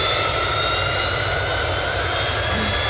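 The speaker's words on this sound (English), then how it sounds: "Here's a FlexJet Gulfstream." A FlexJet Gulfstream business jet roars steadily at Cleveland Hopkins International Airport, its loud engine whine and rumble filling the air without talk.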